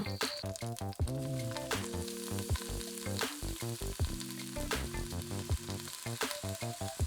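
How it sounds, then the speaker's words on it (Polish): Celery and onion fry in hot fat with a continuous sizzle, while music plays steadily over the cooking noise. "Na tłuszczu podsmażamy selera i cebulę."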